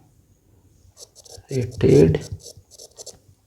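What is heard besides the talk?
teacher writing on the board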